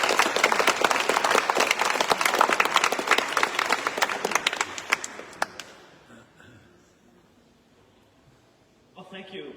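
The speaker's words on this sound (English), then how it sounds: "Can we give him one more big round of applause?" Loud, dense applause from an audience at a heritage talk in Hull Minster fills the room, then gradually fades out, leaving a brief pause before voices return.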